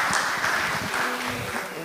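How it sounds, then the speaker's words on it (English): Audience applause at a student presidential debate, a dense steady patter of many hands clapping at moderate loudness, with voices mixed underneath. "Let's clap."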